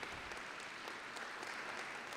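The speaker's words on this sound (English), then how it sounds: "Give yourselves a nice round of applause." An audience at an Academic Decathlon Super Quiz gives the participants a round of applause, dense steady clapping throughout, fairly distant and soft.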